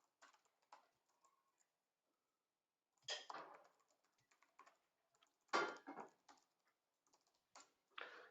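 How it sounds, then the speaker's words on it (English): Bursts of typing on a computer keyboard, quick clusters of clicks separated by pauses, close and fairly quiet with no talking over it. "You might hear me typing."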